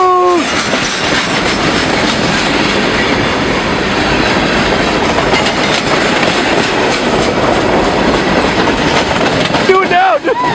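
A freight train with a caboose rolls past close by, a loud continuous clatter of wheels on rail with faint squeals. People talk and shout over the passing cars.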